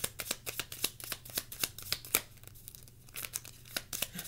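Stiff tarot cards being shuffled up close, a quick run of crisp, papery riffling bursts and snaps in an irregular rhythm, with no talking.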